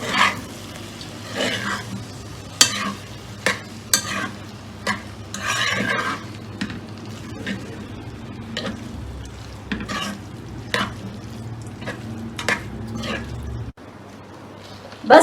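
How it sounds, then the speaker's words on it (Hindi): Pasta tossed and stirred into red sauce in a pan, with scraping and clattering stir strokes over a steady low sizzle, fairly close and continuous, with a few brief louder knocks. "बस पास्ता ऐड करना है, मिक्स करना है और ये बिल्कुल रेडी है।"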